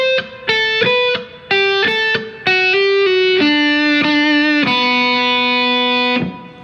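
A distorted electric guitar plays the intro solo of a song, mostly on a single string: sustained notes that step downward, loud and alone, ending on a long held note.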